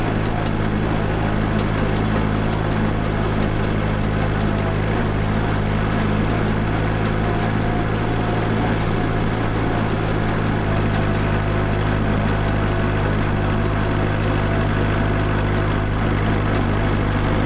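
An old 1949 Farmall Cub tractor engine chugs steadily at a constant idle-like pace, a loud low drone running unbroken throughout.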